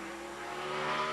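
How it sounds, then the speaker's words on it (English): A NASCAR stock car, number 51, runs a qualifying lap at the 2002 Sharpie 500, a steady, faint engine drone with no other sounds over it. "Carl Long is out next in his 51 car."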